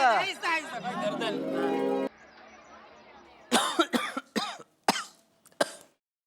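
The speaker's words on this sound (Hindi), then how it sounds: "इतना खांस रहे हो पर डॉक्टर के पास अभी तक क्यों नहीं गए आप?" A man coughs in a comedic Indian TV scene: after a stretch of talk, a series of sharp, loud coughs in quick irregular bursts with short pauses between them.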